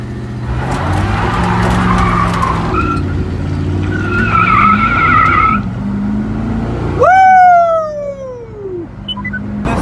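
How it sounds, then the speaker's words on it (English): A 1976 two-wheel-drive Chevy Suburban is brake torqued. A low engine rumble builds, then the tires break into a loud, sweeping screech that falls away, close and prominent. "Let's see if I can brake torque it real quick."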